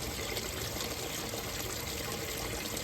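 Steady running water fills and rinses out a washing machine drum during a cleaning job, a continuous even wash of splashing flow with no breaks or voices.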